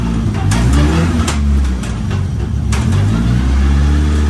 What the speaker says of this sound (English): Car is running nice enough.